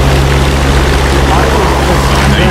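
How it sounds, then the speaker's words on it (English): Propeller warplanes drone in a World War II-style aerial combat video game, a loud steady engine hum with low throbbing tones filling the whole clip, continuous and close. "I think those planes are coming after me."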